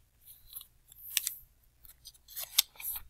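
A sheet of paper is folded in half, giving crisp rustles and a couple of sharp creasing crackles in separate bursts over about three seconds in a quiet room.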